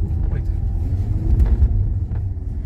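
A Skoda Kodiaq 4x4 driving off-road, a steady low engine and tyre rumble with faint knocks and bumps, close and continuous, with someone talking over it.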